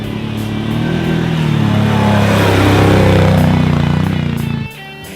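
Engine of a 2019 Can-Am Outlander 850 ATV, a loud, close, steady drone that swells slightly in pitch and intensity before the throttle drops off abruptly near the end.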